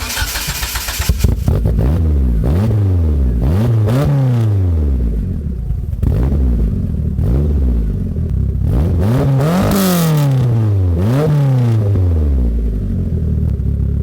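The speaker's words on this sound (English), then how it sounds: "As you can hear, this engine sounds very, very healthy, but it does have a little bit of a weird idle." A Mitsubishi Eclipse GSX engine, abandoned for ten years, cranks and catches, then revs up and down repeatedly in loud, rising and falling bursts, heard close with no talking.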